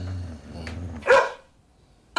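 A dog gives one sharp bark after a low engine-like rumble fades, followed by near silence and the start of another sound at the very end.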